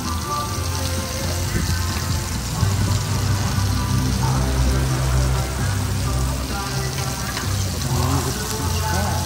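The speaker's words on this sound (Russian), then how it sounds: "Сейчас будем жарить кальмары." Squid frying in a pan gives a steady, dense sizzle and crackle that stays loud and even throughout, with no voices over it.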